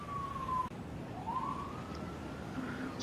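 A game siren wails in rising and falling sweeps, a thin electronic tone that drops out briefly then climbs again over a low rumbling background, moderately loud with no speech.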